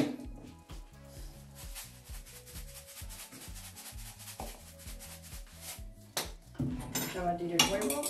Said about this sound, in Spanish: Batir el huevo.